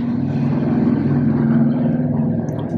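A steady motor drone like a grass-cutting machine mixed with passing traffic outside, a loud continuous low hum that holds level throughout, with no talking.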